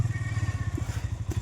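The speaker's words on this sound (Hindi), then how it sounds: "पीछे बाइक लेके आ गए" A motorcycle engine on a steep forest hiking trail in the Leepa Valley chugs with a steady, low, rapid pulsing beat that stays fairly close and even throughout, with no talk over it.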